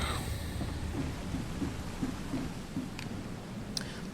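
A thunderstorm rages during a tempest at sea in The Sinking City video game, with steady rain hiss and low rumbling thunder, a couple of sharp cracks near the end, and no voices.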